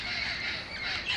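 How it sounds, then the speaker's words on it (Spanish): Parakeets flying overhead let out a brief burst of harsh, overlapping squawks, moderately close and heard alone. "ya están ahí los pericos, pero ahí andan volando ahí"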